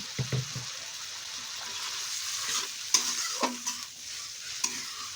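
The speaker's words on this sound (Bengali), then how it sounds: "ঠিক এইভাবে কষতে থাকবো মশলাটাকে।" Bengali spice paste (masala) with a splash of water being stirred and fried in a pan, soft continuous sizzling under occasional scraping strokes of the spoon, close by and fairly quiet, no voices.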